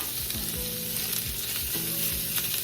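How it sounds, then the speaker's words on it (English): Andouille sausage sizzles steadily in a pot as the base for a Cajun seafood gumbo, a close, continuous crackle with a few low knocks and scrapes of a spoon. "we're gonna go ahead and add our andouille sausage"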